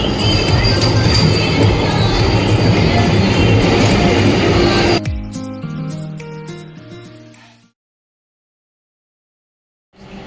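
A Vande Bharat express train rushes past loudly with rumbling wheels, then abruptly fades to a quieter rolling hum and squeal before dropping into silence.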